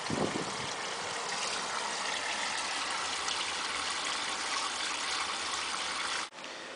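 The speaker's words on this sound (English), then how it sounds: "You can see water is still running." Water runs continuously with a dense, steady hiss and trickle, unbroken until a sudden cut near the end.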